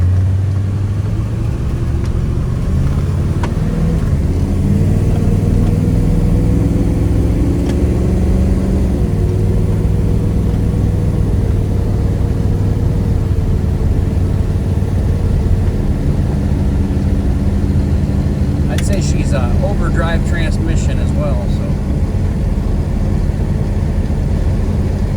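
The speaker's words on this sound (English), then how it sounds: "Car goes down the road good." A 1950 Ford Custom hot rod with a 350 small-block V8 and air ride cruises down the road, a low steady engine rumble with a gradual pitch rise as it accelerates, heard from inside with faint passing traffic.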